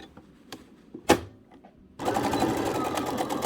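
A sewing machine stitches a pocket onto a ribbon skirt, running steadily and loud after a few scattered clicks and handling noises, with a rapid even rattle of stitches.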